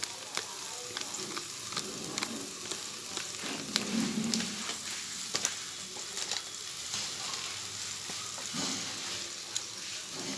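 Spice paste with chili being sautéed in a pan for a paneer curry, a continuous frying hiss with intermittent sharp spatula scrapes and taps, moderately close and without speech.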